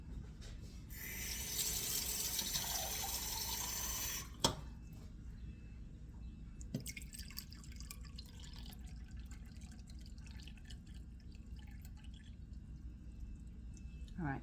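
Cold water is poured into a measuring cup in a brief, hissing stream for a few seconds, followed by a sharp clunk, a couple of knocks and quiet kitchen background.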